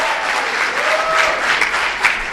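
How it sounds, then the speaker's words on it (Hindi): An audience at a comedy poetry event applauds the host, a dense, steady wash of clapping lasting the whole stretch with no talk. "एक बार तालियां संचालक के लिए हो"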